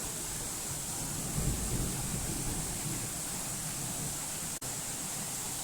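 A waterfall roars as a steady, dense broadband wash, heard from inside a small dry cave beside it during a thunderstorm, with a brief dropout near the end.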